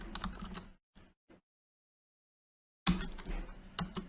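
Close, quiet computer keyboard typing as C# code is entered, a cluster of rapid keystrokes, a few isolated taps, a silent gap, then another quick run of clicks.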